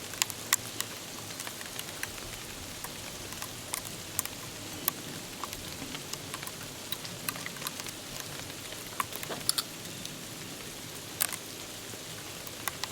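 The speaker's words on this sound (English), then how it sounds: "I'd rather it be snowing than actually hailing, because some of it's pelting me in the forehead" Snow mixed with hail falling outdoors, a dense crackling patter of pellets hitting nearby surfaces with scattered sharper ticks, steady and close with no talking.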